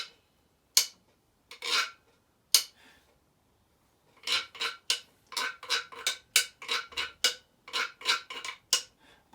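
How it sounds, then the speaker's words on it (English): A guero is scraped with a stick, first with a few separate rasping strokes, then a quick run of regular scrapes, close and clear in an otherwise quiet room. "Now a guero is played by either scraping or hitting with the back end of a stick."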